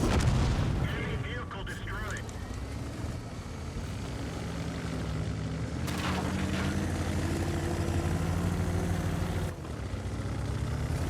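Artillery fire in the tank battle game World of Tanks, with distant booming shots and rumbling impacts over a constant engine drone, while a voice talks over the action.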